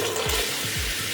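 Water runs from a newly installed Kohler 596-VS Simplice kitchen faucet, a close, steady hissing splash filling the whole moment with no speech.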